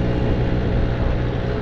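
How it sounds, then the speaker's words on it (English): A car engine idles steadily right after an oil change, a continuous close rumble with dense low-end hum and no pauses. "My engine sounds different."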